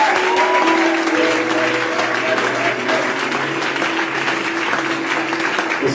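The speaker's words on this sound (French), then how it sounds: "J'aimerais que tu acclames le Seigneur" A church congregation cheering and applauding the Lord, with steady dense clapping and raised voices filling the room throughout, loud and continuous.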